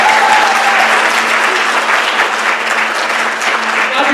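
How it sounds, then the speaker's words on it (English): Loud, dense applause fills the room at a theatre troupe's award ceremony, a steady close wash of many hands clapping from start to finish with no break. "Give yourselves a round of applause."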